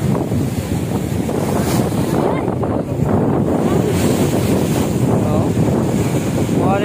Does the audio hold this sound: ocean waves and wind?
yes